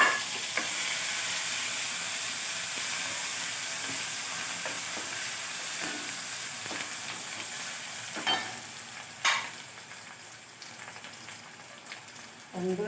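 Crushed shallots and garlic fry in a pan after mustard seeds have popped, for a Kerala banana flower thoran. A fairly quiet, continuous sizzle runs throughout, with a few louder pops and utensil knocks.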